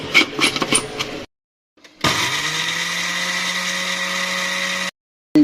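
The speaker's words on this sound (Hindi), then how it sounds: "अब मैं इसको पीसती हूँ इसमें।" An electric grinder whirs loudly for about three seconds, grinding dried coriander and pomegranate seeds, with a steady high motor whine that starts and stops abruptly, preceded by some brief clattering.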